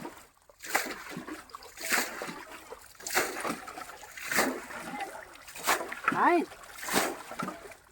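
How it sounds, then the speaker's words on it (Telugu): Rhythmic splashes of water thrown repeatedly by an old man to catch fish, roughly once a second, with people talking over the sound outdoors in a village. "నీళ్ళు చల్లుతా ఉన్నాడు తాత"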